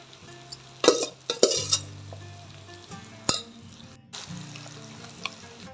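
Mango pieces are stirred into hot oil with mustard seeds, making a sizzle under clanking utensil and pan knocks.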